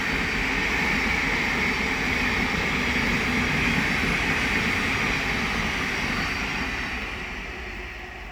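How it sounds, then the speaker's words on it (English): A Thameslink Class 700 electric train runs past on the Midland Main Line at Elstow, a loud, steady broadband roar that holds for several seconds before easing slightly at the end, with no talking. "a Thameslink Class 700 from Three Bridges to Bedford"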